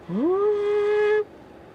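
Cooled seat fan motor in a 2021 Toyota Venza, a steady tonal whir that ramps up in pitch at start, holds evenly for about a second, then cuts off abruptly into quiet cabin.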